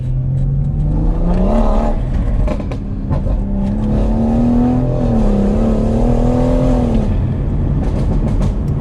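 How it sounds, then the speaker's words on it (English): A 485bhp BMW M140i accelerates on a first drive, its engine note droning and rising in pitch, dipping briefly through a gear change, then climbing again, loud and close from inside the car, with no talk. "let's go watch Chloe have a little first drive in the car."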